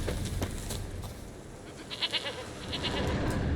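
A goat bleats repeatedly in The Witcher 3 video game, a steady run of nasal calls over a low ambient game background, fairly close and moderately loud with no talk over it.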